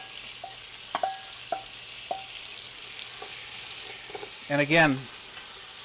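Onions sizzle in a pan as the base for a pot roast, a steady frying hiss under scattered kitchen clinks and short tonal beeps, with a brief spoken phrase near the end.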